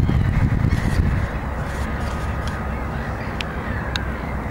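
Gulls squawking noisily at a spring city beach, a dense restless chorus of caws and cries, louder at first, then a steady clamor with a couple of sharper calls standing out.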